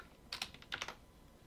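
Typing on a computer keyboard while building a simple Python GUI, two quick pairs of close, light key clicks over a quiet background.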